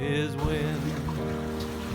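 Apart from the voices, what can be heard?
trailer sailboat crossing Whitsunday Passage in 20-knot wind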